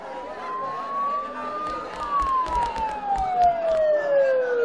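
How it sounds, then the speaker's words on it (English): Emergency sirens wail in the Persona 4 Golden video game, a rising then long falling tone in a foggy town setting, sounding fairly close with a murmuring crowd and scattered clatter beneath. "Don't those sirens sound really close?"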